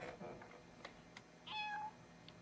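A cat meows once, clear and drawn out, over a quiet, noisy indoor background with faint voices and small clicks.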